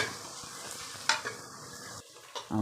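Onions sauté in oil for tomato rice, a soft steady sizzle punctuated by several scraping stirs and clinks of a spoon against the pan, close by and quiet, with no speech.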